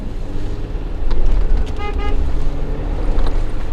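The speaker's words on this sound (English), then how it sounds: "Give him a double honk there." A car horn gives a short honk on a road near the San Felipe Hills, a brief tone rising above loud engine and wind rumble inside the vehicle, with no talking.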